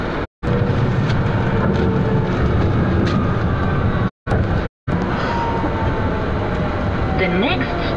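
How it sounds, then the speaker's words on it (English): A London Underground Victoria Line train between Pimlico and Victoria roars loudly through the tunnel with a constant rattling rumble and brief dropouts, metallic squeals rising near the end. "This is a Victoria Line train to Walthamstow Central."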